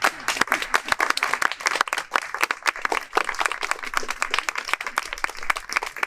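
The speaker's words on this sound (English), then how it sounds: "Jacqueline and the whole team at M&S deserve a round of applause" A crowd applauds at an M&S tea party, a steady round of many hands clapping close by, dense and sustained for several seconds with a few voices faintly underneath.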